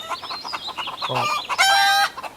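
A rooster crows loudly and close by, a drawn-out cock-a-doodle-doo with a rising, strained final note, heard alone with no talking.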